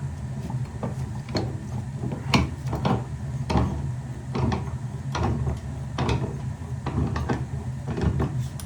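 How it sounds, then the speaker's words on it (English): Metal pipe fitting being threaded into a water heater, a series of faint irregular ratcheting clicks and scraping turns over a steady low hum, with no talking. "Alright, let's thread that in there."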